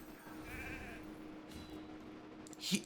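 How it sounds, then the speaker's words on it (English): A faint, synthetic-sounding video game sheep bleats once, wavering briefly, followed by a soft magical chime and a small pop against a quiet low hum. "Sheep."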